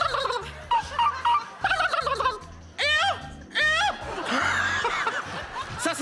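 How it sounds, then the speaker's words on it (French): A turkey gobbles loudly in a farmyard, several bursts of rapid warbling calls breaking up other chattering fowl sounds, close and clear throughout. "Le dindon."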